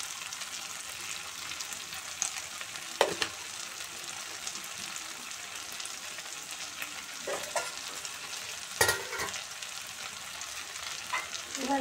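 Spice masala for cabbage kofta curry fries and is stirred in the pan, a continuous sizzle broken by several scraping strokes and brief louder bursts, with no talking.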